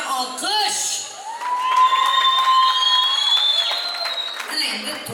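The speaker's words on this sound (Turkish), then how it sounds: "Bir de lebapça alkış." Guests at a Turkmen wedding in Istanbul break into sustained Lebap-style applause, a dense wash of clapping mixed with crowd noise and a voice that drifts over the top.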